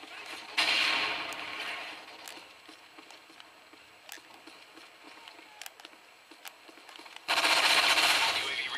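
Machine gun fire in Call of Duty: Modern Warfare 3 team deathmatch, with loud sustained bursts at the start and end and scattered single shots and clicks in between, no talk heard.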